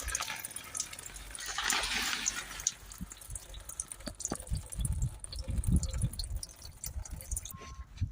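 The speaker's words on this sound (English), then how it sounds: "That's just going to drain the fuel filter out before we completely open it." Diesel fuel draining out of the fuel filter on a Ford Transit MK8 2.0 Euro 6 van, a steady liquid trickle and drips with a few small knocks, close and moderately loud.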